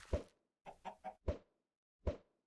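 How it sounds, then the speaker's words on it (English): Clucking chickens in Minecraft: a short cluck, a quick run of three clucks, then two more single clucks spaced apart, close and clear against silence. "as you just heard, we have some chickens here"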